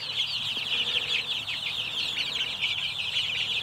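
Chicks on fresh grass give a continuous chorus of high peeping and soft clucking, close and fairly faint, with a low murmur of background noise beneath.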